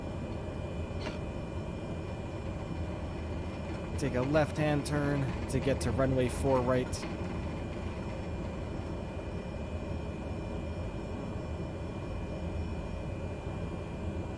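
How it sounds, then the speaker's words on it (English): A Cessna C208EX turboprop taxis in Microsoft Flight Simulator, heard from inside the cabin as a steady muffled engine drone with broadband hiss throughout, while a voice gives taxi instructions over it. "Turboprop engines aren't known for being quiet, but we are inside now."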